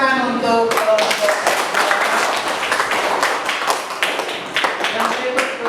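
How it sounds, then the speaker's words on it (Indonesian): A classroom group of students claps for a group after a presentation, a dense burst of hand claps lasting several seconds that gradually thins out, following a brief spoken line at the start. "Tepuk tangan untuk kelompok."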